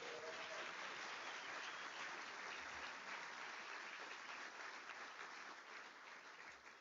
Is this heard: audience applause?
yes